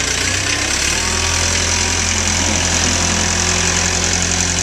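A skid loader's engine runs steadily at an outdoor consignment auction in Urbana, Ohio, a continuous loud mid-pitched drone with a knocking, idling rumble throughout.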